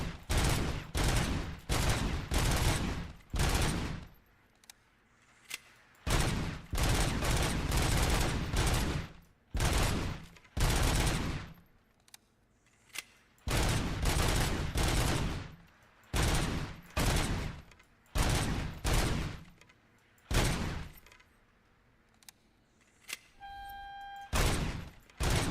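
Bursts of automatic machine gun fire from the RoboCop video game, loud and close, coming in rapid clusters of repeated shots with short gaps between them and no talking.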